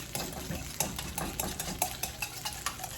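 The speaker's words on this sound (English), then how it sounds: "And we need a little bit of olive oil. And I'm gonna whisk" Lemon vinaigrette with olive oil being whisked, a quick rhythmic run of light metallic taps and swishes against a bowl, close and fairly quiet, with no voice.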